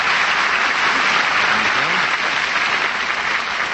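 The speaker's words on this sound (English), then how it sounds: "that applause had a lot of life to it" Applause from a radio studio audience greets a guest on a 1948 broadcast, dense and sustained clapping that fills the whole stretch at steady volume before easing slightly at the end.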